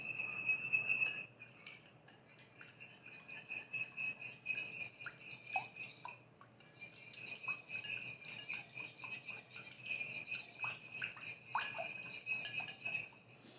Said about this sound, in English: Now I'm going to whisk these all around.